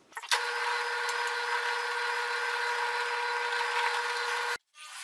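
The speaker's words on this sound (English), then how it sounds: "now I'm just drilling a pilot hole for the" A power drill bores a pilot hole in wood, a steady high whine running continuously for several seconds before cutting off abruptly.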